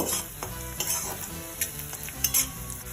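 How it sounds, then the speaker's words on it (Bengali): Chopped onions frying in oil for chicken do pyaza sizzle steadily while a utensil scrapes and stirs them around the pan in repeated strokes, close up with no talk. "পেঁয়াজ ভালো করে ভেজে নেব একটু লাল লাল হয়ে আসা পর্যন্ত ভেজে নিতে হবে"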